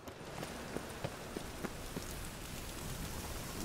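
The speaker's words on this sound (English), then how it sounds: "Rain was coming." Steady rain in The Witcher 3 falls as a dense hiss of droplets on the ground, with soft footstep-like taps spaced through it, moderately quiet and continuous.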